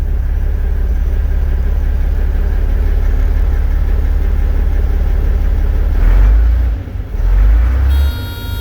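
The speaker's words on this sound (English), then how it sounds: "I'm just letting it build some oil pressure up before I give it a little rev." A Volvo F7 truck diesel idles after a cold start, a loud steady low rumble that thickens briefly near the end, close by with no talk.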